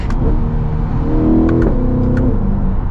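Engine of a 2023 Chevrolet Corvette Z51 Convertible pulling hard from inside the cabin, a loud continuous roar that rises in pitch through short-shifted gears, with a few brief clicks along the way.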